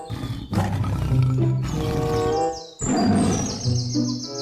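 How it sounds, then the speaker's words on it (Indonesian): A lion roar from a toy animal, sounding in two long, loud bursts with a brief break between them and faint chirps near the end. "ini seekor singa"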